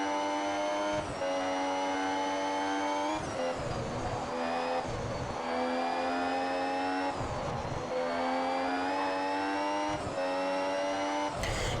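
A Formula 1 car in a racing video game: a steady high-pitched engine whine that holds near constant, with brief dips at gear shifts or braking. It runs loud and continuous throughout, without talk.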